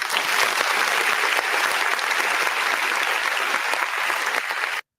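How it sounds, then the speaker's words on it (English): Crowd clapping in a sustained round of applause, loud and even, with many hands blending into a thick wash of claps until it stops suddenly near the end. "Let's give everybody on this broadcast a round of applause."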